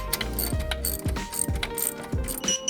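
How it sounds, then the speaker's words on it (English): A ratchet with a 13 mm socket tightens a bolt during a big turbo install on an A90 Supra, clicking rapidly and close in repeated quick strokes with no talk. "So now I'm gonna tighten this down with a 13 mil."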